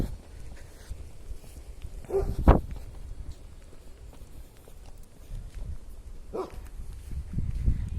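Dogs barking at a hiker in a forest, two short distant barks a few seconds apart over low outdoor rumble and footsteps.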